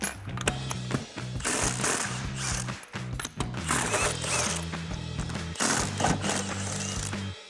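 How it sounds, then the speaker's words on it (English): Impact wrench taking the spare tire lug nuts off a 2021-2024 Ford Bronco with aftermarket wheels and locking lugs, in repeated loud rattling bursts with short pauses between nuts. "So first thing we need to do is get our spare tire out of the way. So we're going to grab our impact and socket."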